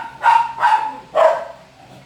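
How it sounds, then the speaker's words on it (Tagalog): Dogs barking nearby: three loud, sharp barks in quick succession, close and alone without talk. "Mga aso na to"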